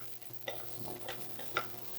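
Salted zucchini stir-fried in a frying pan without oil, faint sizzling under a few distinct scraping stirs of a utensil against the pan.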